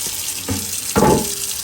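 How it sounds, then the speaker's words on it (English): Cold water runs from a kitchen tap in a couple of short spurts, then a fuller splashing gush, loud and close. "Get some cold water on there."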